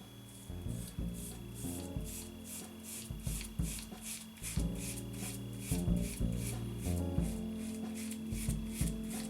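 A Philips OneBlade Core electric shaver runs steadily against skin with a soft, raspy rubbing that rises and falls with each stroke, close and fairly quiet over background music.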